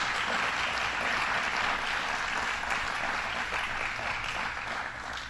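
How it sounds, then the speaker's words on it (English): An audience at a governor's press conference on Long Island claps in sustained, dense applause for the State Police, fairly distant and steady, tapering slightly at the end. "Let's join me in giving them a round of applause."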